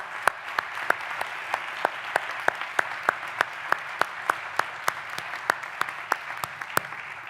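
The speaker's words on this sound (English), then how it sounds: "let's give them a round of applause" Conference audience applauding volunteers at a closing ceremony, a dense wash of clapping with one nearby pair of hands striking a sharp, evenly spaced beat throughout.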